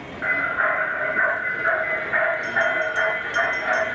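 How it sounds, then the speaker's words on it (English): A tourist road train passes with a steady mechanical rumble and hum, joined by bright, repeated high-pitched tones in the second half, likely a bell or chime. "And here's the train."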